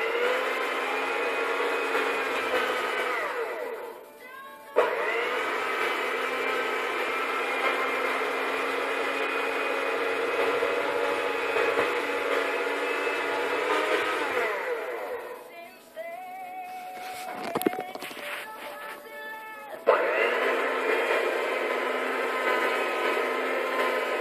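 Electric hand mixer beating lukewarm milk into beignet dough, a loud steady whirring drone that pauses briefly twice, with shifting motor pitch near the end.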